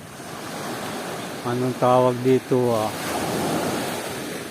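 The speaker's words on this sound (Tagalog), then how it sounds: "kita nyo, ang lalaki ng alon, no?" Large ocean waves surge and wash ashore in a steady broadband roar, with a voice speaking briefly over the surf partway through.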